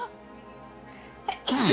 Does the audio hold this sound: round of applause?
no